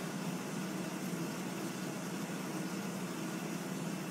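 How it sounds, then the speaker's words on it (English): A washing machine runs steadily in the background as a constant broadband hum and whir, with no distinct cycles or thumps standing out. "Y'all may hear the washing machine in the background"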